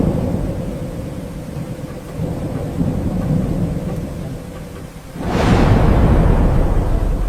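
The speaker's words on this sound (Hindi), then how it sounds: "एक दिन फिर से आसमान में बहुत ही भयंकर तूफान और मूसलाधार बारिश शुरू हो गई। तेज हवाएं चलने लगी।" A violent thunderstorm with torrential rain and strong winds roars steadily, then a loud thunderclap cracks about five seconds in and the downpour swells into a heavy, close rumble.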